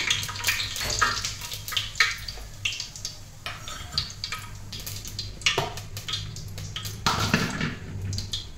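Cumin seeds crackle and sizzle in hot oil in a pan while cooking Kolhapuri mundi, a steady close hiss with scattered sharp pops throughout, no voices.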